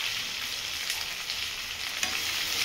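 Tender okra is stirred with a little salt in a hot frying pan, giving a steady, close sizzle with soft spatula movements and no talking.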